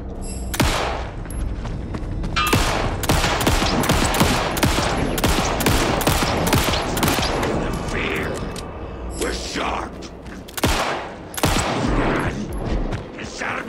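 Rapid gunfire from Alan Wake 2 fills the scene with dense, sharp shots, loud and near, in an almost continuous volley with short gaps, under a player's occasional speech.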